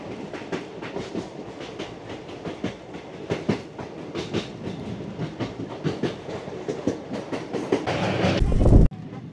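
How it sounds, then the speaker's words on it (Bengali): Passenger train bound for Agartala rounding a bend, wheels clattering in a steady rhythmic clickety-clack up close, growing louder before a sudden cutoff. "অসাধারণ লাগছে, বাঁকটা নিয়ে আসছে ট্রেনটাকে"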